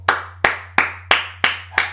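Six separate hand claps at an even, unhurried pace, crisp and close, with a steady low hum underneath and no voices.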